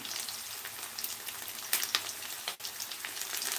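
Dried red chillies fry in hot oil in a pan for amaranth-leaf curry, giving a steady close-up sizzle and crackle with occasional sharper pops, no talking.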